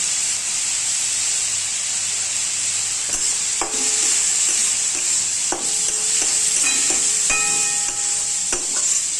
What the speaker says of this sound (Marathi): कांदा हळद भाजून घ्यायची